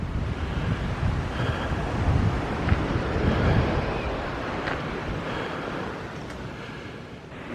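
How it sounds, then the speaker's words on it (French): Sea waves wash onto a beach in a continuous roar while wind buffets the microphone, the surf swelling and easing across the whole stretch. "la mer est moins agitée, mais il y a quand même un peu de vent"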